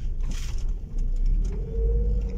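A car engine runs and pulls away on a street in Saudi Arabia, a steady low rumble rising slightly as the vehicle moves off, with faint traffic noise around it.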